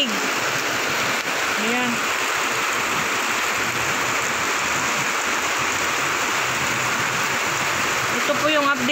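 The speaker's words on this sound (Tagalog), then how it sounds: "malakas ang tubig sa kanal. Siyempre, malakas ang ulan, malakas din ang tubig." Constant loud rush of water flowing through a canal during heavy rain and wind, with a brief voice speaking over it.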